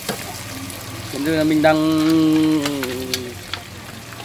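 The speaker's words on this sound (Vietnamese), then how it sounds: "Bây giờ thì chiên lướt qua cho nó cứng thôi" Field shrimp fry in hot oil on a home stove, a steady close sizzle and bubbling that swells midway, while someone talks over it.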